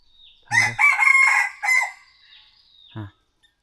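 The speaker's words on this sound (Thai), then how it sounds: "โอ้เสียงไก่ปลา" A nearby rooster gives a full crow, loud and broken into several raspy segments, followed by quiet and a brief final squawk.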